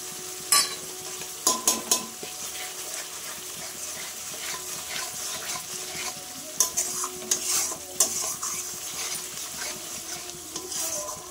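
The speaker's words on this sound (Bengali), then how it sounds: "এবার আস্তে আস্তে মশলাটা আমি কষিয়ে নেব যতক্ষণ না তেল ছাড়ছে" Spice masala for an egg curry sizzles steadily in a pan while a spoon stirs it, with a few sharp scraping clatters against the pan over the frying; no talking.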